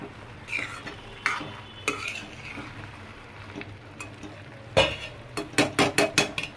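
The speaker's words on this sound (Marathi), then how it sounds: "त्यानंतर आपल्याला थोडासा तूप जो आहे नॉर्मल एवढासाच आपल्याला वरून टाकायचं. चांगला हलवूया." Spoon stirring ghee into thick carrot halwa in a pan, with soft scraping and a series of irregular clinks and taps against the vessel, quickening into rhythmic strokes toward the end.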